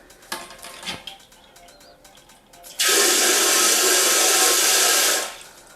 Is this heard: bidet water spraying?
yes